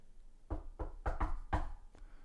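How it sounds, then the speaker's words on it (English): Knocking on a door, about five soft raps in a quick, slightly uneven rhythm, faint and somewhat distant against low room noise. "I don't know if you could hear that knock."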